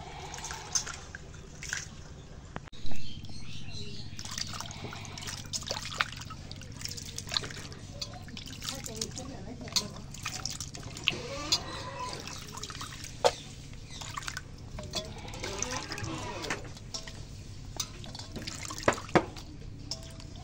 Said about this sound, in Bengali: মাছগুলো এখন ধুয়ে নিই।